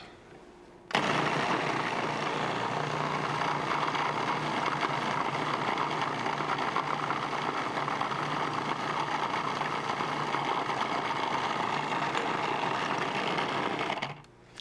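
A Cuisinart food processor whirs loudly and steadily for about thirteen seconds mixing a chocolate cookie crust, starting and stopping abruptly, close by with no talking.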